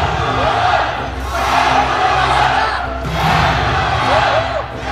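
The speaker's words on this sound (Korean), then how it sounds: "최무겸과 서두원을 연호하는 모든 관중들입니다." A packed arena crowd at the Jangchung Gymnasium chants in loud rhythmic waves, rising and falling after a featherweight MMA title bout, with roaring voices filling the hall and no clear speech above them.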